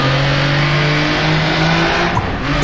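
Jaguar D-Type race car engine in the rFactor2 racing game on the Isle of Man Mountain Course, a loud, steady, close drone that shifts briefly near the end as the car drops a gear.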